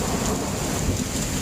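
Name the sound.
heavy rain with thunder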